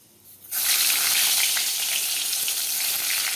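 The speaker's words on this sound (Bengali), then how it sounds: "এখন বেগুন ভাজবো।" Eggplant slices drop into hot oil and a loud, dense frying sizzle erupts at once, then holds steady and close until the end, with no voices.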